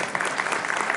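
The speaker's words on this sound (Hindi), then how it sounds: "ऐसे विधायक के लिए भी जोरदार तालियां बजा" Brief burst of audience applause at a municipal teachers' honour ceremony, many hands clapping briskly and fairly close for about a second.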